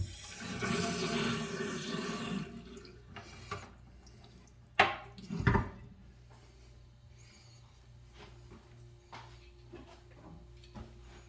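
A short gush of water draining from an HVAC pipe strainer, then a couple of knocks and clunks of metal parts being handled in a quiet room.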